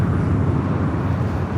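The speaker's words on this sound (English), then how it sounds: "This is United Airlines Flight 32 taking off to Tokyo Narita on the 787-9" United Airlines Boeing 787-9 Dreamliner taking off from LAX on a flight to Tokyo Narita, its engines giving a loud, steady, low broadband roar that holds evenly throughout with no voices.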